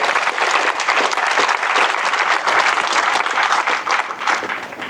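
An audience applauding after a presentation at a Nature On Tap talk about black rhino subspecies, loud, sustained clapping from many people throughout, close and full.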